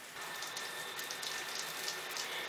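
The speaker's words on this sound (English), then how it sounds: "So I've reduced the amount of water that's flowing out that." A hose shower head sprayer with its flow turned down by a valve gives off a soft, steady hiss of water spray, even and unbroken, with no talking.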